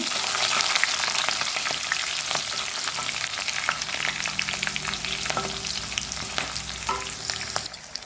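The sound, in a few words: onions, garlic and spices frying in oil for tempering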